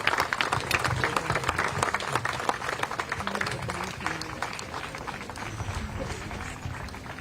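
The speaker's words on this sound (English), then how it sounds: "can we also give them a round of applause?" Mourners at an outdoor candlelight vigil for a fallen police officer clap together, a brisk, dense applause that starts strong and gradually thins toward the end, with faint background murmur underneath.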